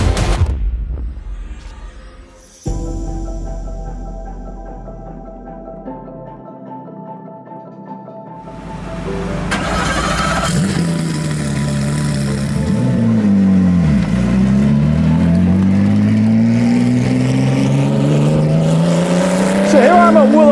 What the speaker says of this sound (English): checking out my buddy Cam Ingram, who's shaking down that GT3R twin turbo right there in preparation for Pikes Peak